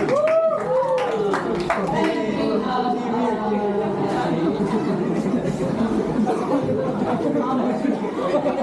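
A school principal introduced at a panel talk receives audience clapping mixed with chatter and light laughter, moderately loud and steady under overlapping voices.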